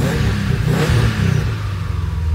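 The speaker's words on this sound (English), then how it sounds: "Gonna give it a little bit of gas so you can hear that." A 2013 Subaru Impreza engine revs up with a quick blip of throttle, then settles back to a rough, rumbling idle, loud and close.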